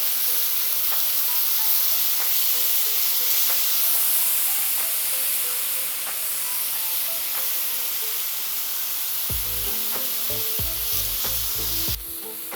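Meat sizzles steadily in oil on a Steelmade flat top griddle, a loud continuous frying hiss close by, with a low hum and some clinks toward the end.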